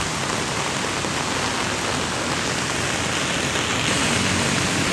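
Heavy rain pours over a traffic-jammed street in Bangkok, a dense, loud, unbroken roar of rainfall that continues steadily throughout, with no one speaking.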